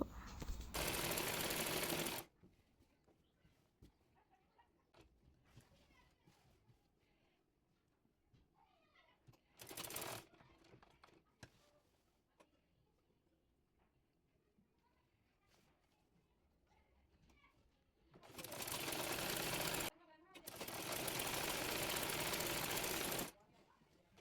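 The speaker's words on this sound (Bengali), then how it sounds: "এরপর দাগ অনুযায়ী বডি পার্টটি সেলাই করে নেব।" A sewing machine stitches the body part of a kameez in three loud, steady whirring bursts. Quiet handling noises and faint speech fill the pauses between bursts.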